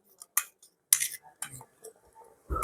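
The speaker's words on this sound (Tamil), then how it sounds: "அடிப்பிடிக்காமலுக்கு கிண்டி கொண்டிருக்க வேணும்" Vegetable porridge (koozh) stirred in a pot, with several separate clinks and scrapes of a metal ladle against the pot, irregular and fairly close, ending in a louder rattle.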